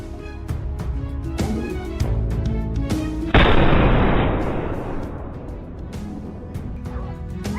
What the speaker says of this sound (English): Without hesitation, the crisp crack of gunfire breaks the silence